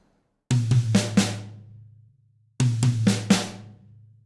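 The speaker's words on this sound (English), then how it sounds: "we're going to start with 2 on the tom and then play 2 on the snare" Drum pattern played twice: two tom hits followed by two snare hits in quick succession, each phrase ringing out with a low sustained tom resonance before a pause, clean and close with no talking.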